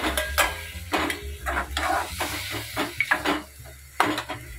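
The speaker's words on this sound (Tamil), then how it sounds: "இப்போ எடுத்து வச்சிருக்கிற தக்காளி சேர்த்துக்கலாம்." Tomatoes sauté in a pan with ginger-garlic paste for prawn thokku, a soft sizzle cut by rhythmic, close spatula scrapes and knocks against the pan, about one every half second.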